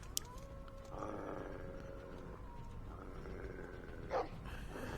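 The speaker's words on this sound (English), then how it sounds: "That's a really ugly dog." In Game of Thrones: The Role Playing Game, an ugly dog gives a faint, low, sustained growl under quiet background game ambience.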